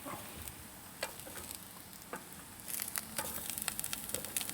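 An egg frying in a Ridgemonkey pan on a micro camper stove, a soft continuous sizzle with small crackles and pops that grow busier toward the end, heard close and fairly quiet with no talking.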